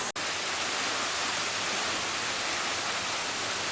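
Mountain stream running beside a rocky trail up a valley in the Ssanggok gorge area of Goesan: a steady, dense broadband rush of flowing water, constant and close, with no voices.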